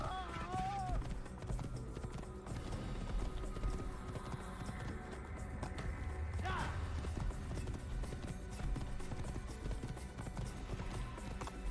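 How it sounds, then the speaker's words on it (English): Horse hooves clip-clopping steadily while riding in a video game, a continuous rhythmic trot under a dense backdrop of game sound and occasional talking, with a brief whinny near the start. "I'm just riding a horse"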